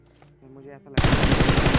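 Rapid automatic gunfire in a Free Fire-style battle royale mobile shooter game, a loud burst of quick repeated shots breaking in suddenly after a brief tonal in-game sound.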